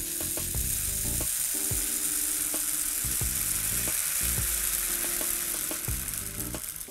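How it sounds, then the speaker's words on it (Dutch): Beads rattling inside a play toy, a close, continuous dry clatter with rhythmic ratcheting clicks as rollers turn, heard alone without talk. "Hoor je de kraaltjes?"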